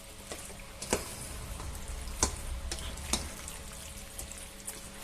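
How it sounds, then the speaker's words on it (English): Chunky pork and pasta being mixed through sauce in a pan, with a steady soft sizzle broken by a few sharp scraping clinks of the spoon at irregular moments. "So now I'll give it a good mix about."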